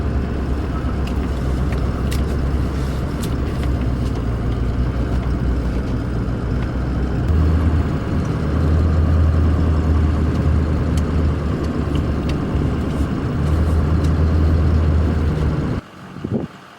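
A vehicle engine runs steadily while it is driven back on a farm and parked for winter, its low rumble loud and continuous with a few heavier surges, then cutting off abruptly near the end.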